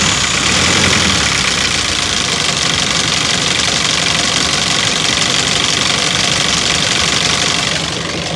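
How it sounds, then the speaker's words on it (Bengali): A Toyota Super Ster LD diesel engine idles loudly and close by with a steady, even rumble and a faint knocking texture, with no voices. "এবার আপনাদেরকে গাড়ির ইঞ্জিনের সাউন্ডটা শোনাই দিব।"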